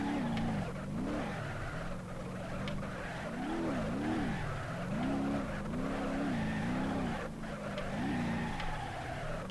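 A car in the driving game BeamNG.drive revs and drifts, its engine note rising and falling in repeated swells while tires squeal and skid between throttle bursts, with no voices.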